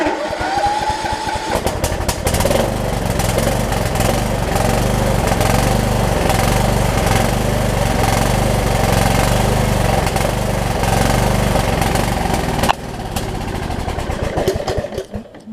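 A Kohler Courage engine on a Troy-Bilt Horse riding mower cranks briefly, fires up, and settles into a loud, steady idle before cutting off near the end, with no talking.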